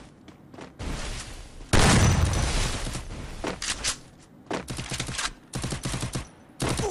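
Loud close video game gunfire in rapid bursts, with a heavy blast of shots near the start followed by repeated machine-gun volleys and short gaps, and a brief exclamation from a voice.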